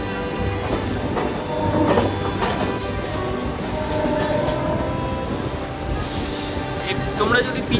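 A suburban train on the Dum Dum Junction to Majerhat line near a Kolkata station rumbles along steadily. Metal wheels squeal in rising, piercing bursts toward the end.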